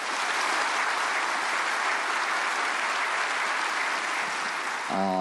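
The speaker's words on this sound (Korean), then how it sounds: "강디모데 전사님을 박수로 환영해 주시겠습니다" An audience applauds to welcome a speaker at a prayer meeting for peaceful reunification, with dense, sustained clapping at a steady level that stops abruptly at the end.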